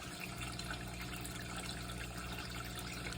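Water burbling steadily in a small DIY backyard pond for Shubunkin goldfish with an aerator running at night, a continuous soft trickling wash without pauses.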